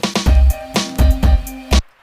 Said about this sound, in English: So I filter in the desert wind sound, the reverse step, and a few snares here.